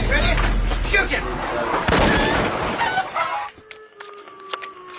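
Gunfire in an old Hollywood-era World War II film, with sharp loud bursts and rumbling shots over a busy battle mix that suddenly drops to a quieter scene with faint tones.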